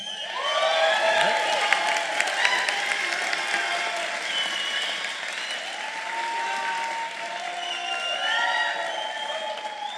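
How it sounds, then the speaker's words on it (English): An audience at a University of Houston honors ceremony breaks into sustained applause for students with perfect 4.0 GPAs, a full, steady clapping that swells slightly near the end, with scattered whoops. "get one more round of applause"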